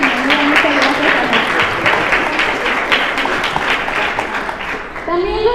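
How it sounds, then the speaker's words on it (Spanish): Audience applause at a presentation event, steady dense clapping from a crowd with voices calling over it, fading near the end as a voice begins speaking. "Y también un aplauso a Sandra Cuevas"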